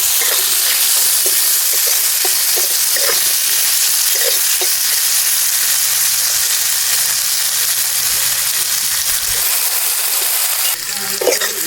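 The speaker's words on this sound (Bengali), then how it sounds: "এবার টমেটোটাও ভেজে নেব।" Steady, loud sizzling of tomatoes frying in hot oil, with occasional soft pops and scraping as they are stirred, continuing without pause.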